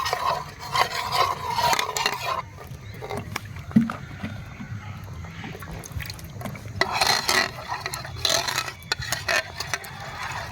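A spoon stirring a chilli cauliflower mixture of green chilli sauce and tomato sauce in a pan, with repeated close scraping and rubbing strokes in uneven bursts.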